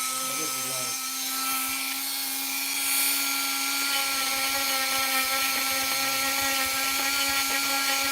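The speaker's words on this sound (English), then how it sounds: "Grind that little spot out for me there." A grinder works a spot out of laminated wood, giving a steady close high whine that holds for several seconds, with faint voices in the background.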